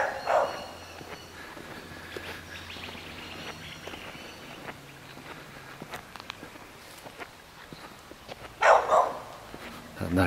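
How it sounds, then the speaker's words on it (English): A neighbour's dog barks a few times in the distance, a short burst near the start and a louder cluster toward the end, over a quiet rural yard with faint rustling. "our neighbour's dog continually barks"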